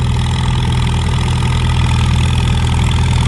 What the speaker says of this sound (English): First Farmall H of the night, and he's getting it. Sounds great.